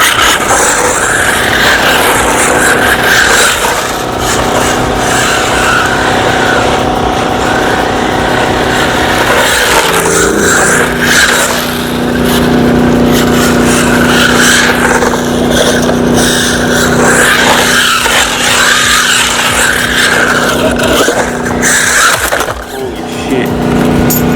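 Pokémon Mater RC car fitted with RC drift tires drifting outdoors, loud continuous tire squeal and whining motor with shifting pitch as it slides, close to the microphone, with faint talk mixed in.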